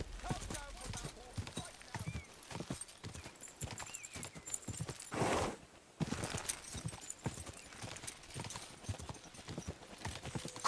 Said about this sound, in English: Hey, that's our horse!